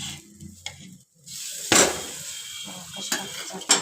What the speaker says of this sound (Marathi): आता आपण भाकरी उलटायची.